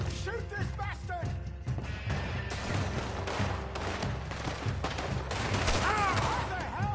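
Rapid gunfire rings out in a Red Dead western game shootout, repeated loud shots over horses and shouting voices, dense and continuous throughout.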